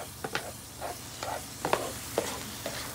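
Taco meat sizzling and popping in a small portable frying pan, with soft crackles and occasional stirring scrapes over a steady low hiss.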